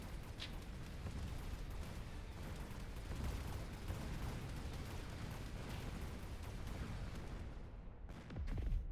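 Heavy volley fire from Vulcan units in the strategy video game Titan: a dense, continuous roar of overlapping blasts and rumbling impacts, loud and sustained throughout with a brief dip near the end.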